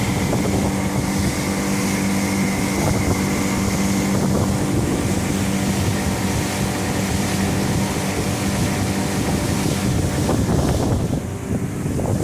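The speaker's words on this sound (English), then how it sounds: "Here is the engine running under power, under throttle." A 60-horsepower outboard engine on a 2016 Suntracker Bass Buggy runs steadily under throttle on a lake, a continuous close drone with wind buffeting the microphone and water rushing alongside.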